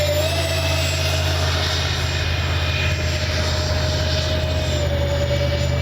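A Freewing 80mm A-10 V2 radio-controlled jet roars past in a low pass at dusk, its ducted-fan whine loud and steady throughout with a shifting high tone, no voices heard.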